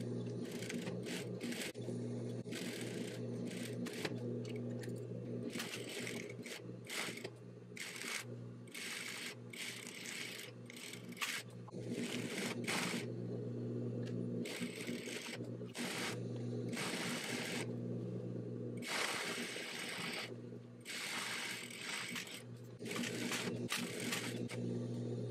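A home sewing machine runs steadily, stitching a collar and collar facing onto 1950s style shorts. The whirring hum is close and continuous, with fast rhythmic needle clatter and brief changes in speed.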